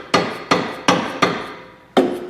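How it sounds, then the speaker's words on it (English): Hammer tapping on the underside of a car's suspension to check for loose parts, five sharp metallic knocks in a steady rhythm followed by a sixth, close and clear with no talk. "I like to go first with the hammer, and you just want to tap around and see if you hear anything loose."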